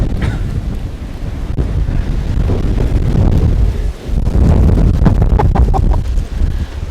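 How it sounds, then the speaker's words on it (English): Strong wind roars and buffets the microphone continuously on a beach at Palmanova, Mallorca, blowing sand, with a low rushing rumble that swells and dips, heard alone outdoors. "This is crazy windy."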